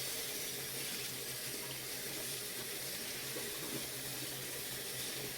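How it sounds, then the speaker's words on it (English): Water runs steadily from a tap while a stuffed toy is rinsed under the stream, a constant close splashing hiss with no voices. "you're going to make sure you get it rinsed really well"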